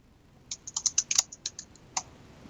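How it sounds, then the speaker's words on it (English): A computer keyboard in a financial market broadcast studio clicks in a short irregular burst of about a dozen crisp keystrokes, close and clear against near silence. "Maybe I'm typing it in wrong."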